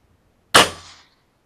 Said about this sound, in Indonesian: Kita tembak aja sekitar ini.